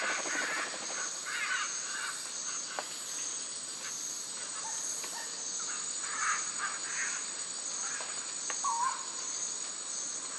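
Macaws squawk in the trees of a Costa Rican forest, harsh calls scattered over a steady bed of insect chirping, with no voices.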